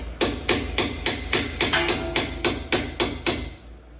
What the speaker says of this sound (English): Take your second spanner wrench and just give it a few little pops.